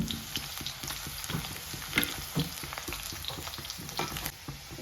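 Onion sizzling and frying in a pan with cloves and cinnamon, a steady dense crackle broken by occasional stirring knocks, close and alone with no talk.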